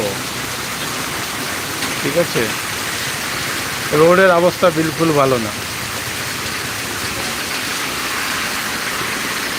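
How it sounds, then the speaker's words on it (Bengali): Heavy rain pours steadily at night beside a road where vehicles pass near a hospital, a dense, even roar throughout with someone speaking briefly over it. "আমি এক ঘন্টা ধরে বৃষ্টির জন্য বসে আছি কখন যে থামবে"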